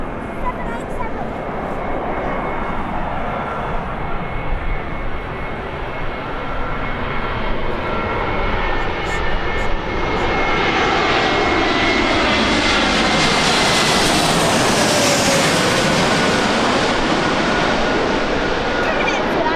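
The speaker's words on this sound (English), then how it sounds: "Coming in for landing." An airplane coming in to land at Birmingham Airport: a loud, continuous engine roar that grows and sweeps in pitch as the aircraft passes close by, with some talk faintly beneath it.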